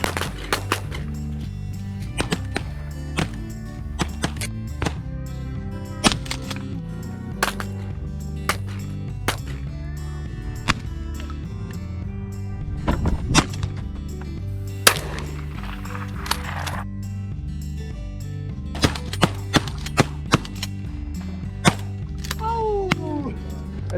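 Shotgun blasts crack out while pigeon hunting outdoors, a scattered series of sharp reports spread over the stretch, some near and some fainter, with low background noise between them.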